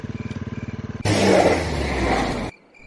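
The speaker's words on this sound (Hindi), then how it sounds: "सुबोध ने सुविधा के लिए एक मोटरसाइकिल खरीद ली थी। एक दिन सुबोध जब गांव वापस आ रहा था," A motorcycle on a night ride back toward a village. It starts with an even, rhythmic idle putter, then bursts into a loud, close engine roar for over a second before dropping away abruptly.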